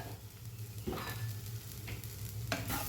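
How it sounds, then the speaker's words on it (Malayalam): Spice powders, including fennel, are being sautéed in a pan for a Kerala pepper beef dish, giving a soft continuous sizzle with brief scraping stirs of a spoon. "ഈ പൊടികളുടെ പച്ചച്ചുവയൊക്കെ മാറുന്ന രീതിക്ക് വരെ നമുക്ക് നല്ലതുപോലെ ഒന്ന് വഴറ്റി കൊടുക്കാം"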